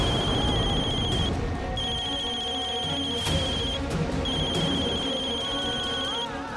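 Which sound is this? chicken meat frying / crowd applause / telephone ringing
telephone ringing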